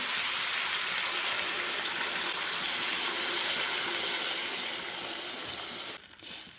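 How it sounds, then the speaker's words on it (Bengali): Water being poured into a cooking pot while a fish dish with drumstick stems and chilli paste is made, a steady broad gushing stream close by that runs continuously and tapers off near the end. "এবার দিয়ে দেবো পরিমাণ মতো জল"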